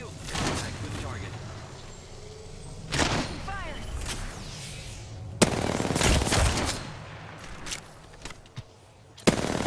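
Gunfire in the shooter game Apex Legends, with repeated bursts of automatic fire and sharp single shots. Some volleys are loud and near and others fainter, broken by short gaps over game sound and in-game voice lines.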